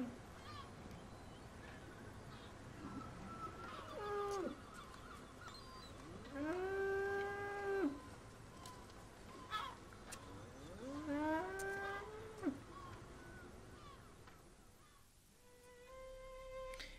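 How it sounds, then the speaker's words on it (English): Cattle bellow at a harbour entrance, several long drawn-out lowing calls rising and falling over a faint hum, moderately distant and echoing, with no speech. "the bellowing of the cattle echoed round the harbour entrance."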